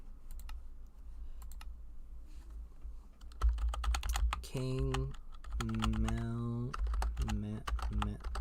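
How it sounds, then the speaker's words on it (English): Rapid clicking of computer keyboard keys typing a username, continuous throughout, with someone talking over the second half. "Wow, I'm so bad at typing."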